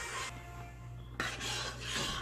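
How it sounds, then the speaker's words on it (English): Sofrito is stirred into Puerto Rican stewed beans in a pot, giving close scraping and rubbing strokes of a utensil against the pot with a short pause midway, over a low steady hum. "Now we're just going to stir this all up"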